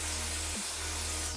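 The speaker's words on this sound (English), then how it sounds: "spray." Hair spray hisses in a steady, close burst onto a short pixie cut, a broad continuous spray lasting over a second with a low hum running beneath it.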